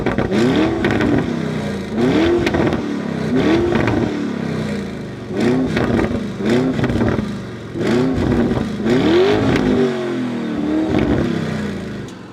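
Lamborghini engine with Akrapovic exhaust revving hard in repeated bursts, each rising snarl followed by crackling pops, loud and close, with no talking.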